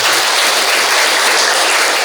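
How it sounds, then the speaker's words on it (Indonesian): Lively applause from a church congregation during a Catholic wedding ceremony, loud continuous clapping with no voices over it. "Mari kita sekali lagi beri tepuk tangan yang meriah."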